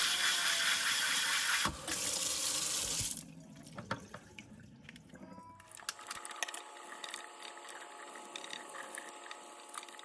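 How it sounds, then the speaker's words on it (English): Water runs hard from a faucet into a kitchen sink for about three seconds, then drops to quieter splashing and the clatter of crab shells being rinsed and handled near the basin. "got them in the sink. We're going to rinse them out, clean them up real good"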